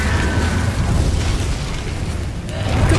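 Incendio fire spell blasts from Hogwarts Legacy, a sustained low rumbling boom with crackling bursts that swells again near the end, loud and continuous throughout.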